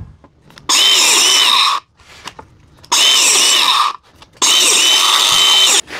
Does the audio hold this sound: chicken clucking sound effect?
no